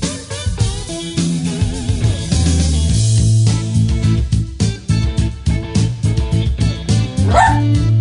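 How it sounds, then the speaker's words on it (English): A female dog barks in short yips and bow-wows over loud, dense music on a radio show, the barks popping up intermittently through the mix. "She just had to be on the show, and now she's barking."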